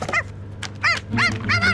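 A dog barks in a children's storybook scene where books tumble from a shelf, giving several yappy barks and yips spread over a couple of seconds, close and fairly loud over a low background hum.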